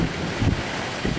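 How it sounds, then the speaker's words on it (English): Wind gusting during a thunderstorm with lightning and heavy rain, a steady broad roar with a couple of brief gust swells over about a second. "You can hear the wind, probably."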